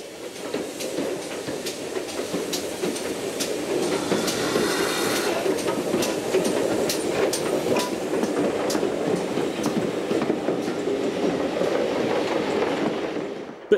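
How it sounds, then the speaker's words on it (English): Great Western pannier tank steam engine running along a country line, a continuous rumbling train sound with rhythmic clicks and beats throughout, steady and fairly close. "this is how panniers are best remembered, chuffing quietly along a country line"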